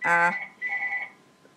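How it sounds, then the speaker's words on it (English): A mobile phone ringtone plays close by in two short melodic bursts with a brief gap between them, then fades out. "my phone rings"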